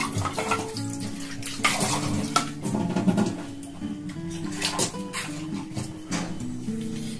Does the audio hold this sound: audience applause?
no